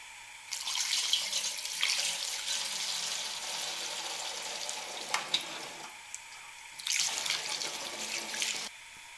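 Liquid kerosene pours in a steady rushing stream into a Dyna Glo 10,000 BTU radiant kerosene heater, in two long bursts with a short pause between, fairly close and alone.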